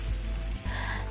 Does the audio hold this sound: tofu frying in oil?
yes